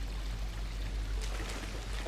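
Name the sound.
water flowing over stone in Dishonored sewer, video game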